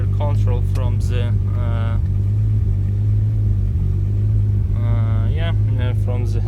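A Cupra Leon VR6 turbo engine runs with a steady, loud low rumble from start to finish, with someone talking over it throughout.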